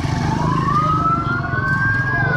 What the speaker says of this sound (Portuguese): Carro de bombeiros.